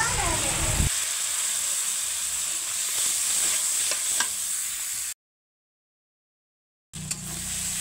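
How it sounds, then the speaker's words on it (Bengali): Masala spices sizzling and being stirred in a pan with salt, turmeric and a splash of milk, a steady frying hiss with scraping, a gap of silence, then cooking noise again under low talk. "মশলাটা কষানো হয়ে গেছে"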